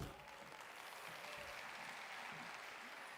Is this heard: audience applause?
yes